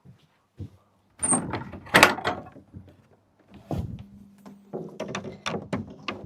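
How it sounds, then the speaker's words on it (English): A shed door is opened in a series of close, sharp clunks, scrapes and rattles, with separate bangs and a brief sliding or creaking sound between quiet pauses. "I need to open up the shed door"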